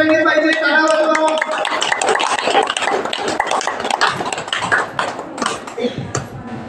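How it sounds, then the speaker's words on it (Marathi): An audience at a therapy centre gathering claps in a brisk, scattered burst that thins out gradually, with voices talking over and after the applause. "टाळ्या थांबल्या गेल्या नाही पाहिजे, टाळ्या वाजवा"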